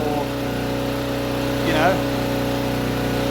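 A 2200W Toolpro petrol generator runs steadily nearby, its even engine drone holding throughout while someone talks briefly over it.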